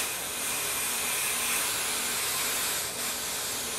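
Adhesive spray hisses from an aerosol can onto a fabric appliqué, a steady close breathy spray held for several seconds with a brief dip near the end, no voices.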